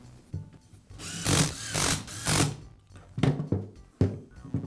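A power driver whirs in several short bursts, spinning up and stopping repeatedly as screws are driven into the handle housing of a DeWALT shear, close and fairly loud.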